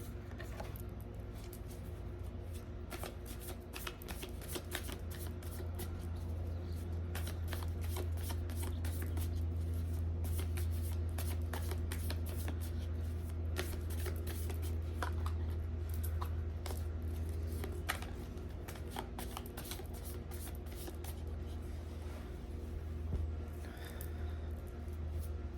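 A deck of cards is shuffled continuously and up close, with a dense riffling and patter running steadily throughout over a low background hum.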